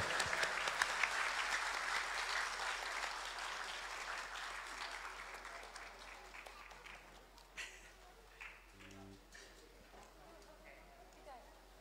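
A studio audience at a televised singing competition breaks into dense applause that is loudest at the start, then tapers over several seconds into scattered claps and faint voices.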